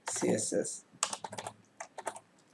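Keys on a computer keyboard clatter in quick, irregular bursts of close taps, with a pause between flurries and talk underneath.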